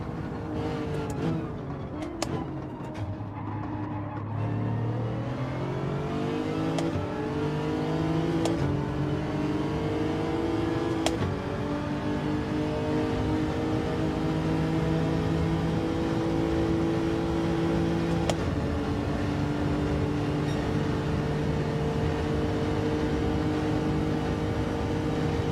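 Nissan GT-R race car engine in Gran Turismo 7, a steady loud drone with rising and shifting revs through gear changes during a daytime lobby race, continuous throughout with no talking.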